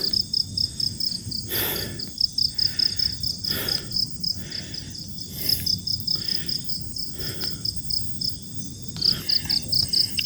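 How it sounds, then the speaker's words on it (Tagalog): Crickets chirp at night near a dark shrine, a rapid high pulsing trill that repeats in bursts, close and clear over a quiet background. "Ang tanging maririnig nyo lang dito ay mga huni ng kuliglig."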